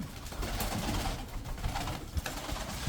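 Turkish tumbler pigeons from Kırşehir coo softly and continuously in a loft, low throaty burbles overlapping close by with no voices.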